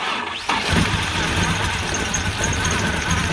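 A Chevrolet Monte Carlo, just fitted with a replacement spark plug, cranks briefly, then catches and settles into a loud, rough, close-up idle.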